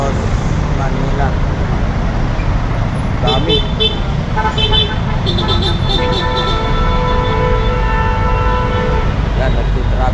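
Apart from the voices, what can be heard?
road traffic in Intramuros, Manila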